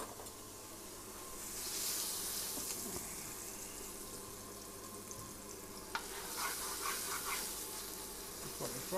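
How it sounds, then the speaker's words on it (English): Mushrooms frying in a pan for roast partridge, a low steady sizzle that swells and fades, with occasional clicks of stirring and a sharp knock of a utensil against the pan, faint and close. "we're going to use it just to fry our mushrooms quickly"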